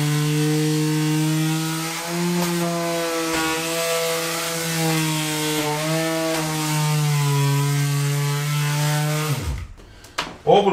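An orbital sander with a sponge base works over a reclaimed wooden door that has rot damage. Its motor gives a steady, close, humming whine that wavers slightly in pitch and then cuts off near the end, leaving a few brief knocks.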